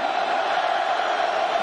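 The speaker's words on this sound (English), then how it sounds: "This crowd has come to life." A large crowd at a college football stadium during a Boise State versus Oregon game roars in a continuous, dense wash of cheering that holds steady throughout.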